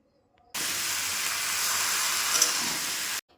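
Bottle gourd and potato sizzle with onion in a hot pan: a steady, loud hiss starts suddenly, holds for about three seconds and cuts off.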